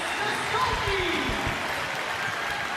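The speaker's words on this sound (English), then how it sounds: "And then you can hear the crowd. They love it." Arena crowd noise at an Iowa vs Drake women's college basketball game, a steady broad roar of fans reacting to a pass, with a commentator talking over it and faint sneaker squeaks.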